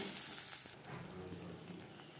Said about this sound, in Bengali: দশ 15 সেকেন্ড জিরে ভেজে নেওয়ার পর দিয়ে দেবো টমেটোর পেস্ট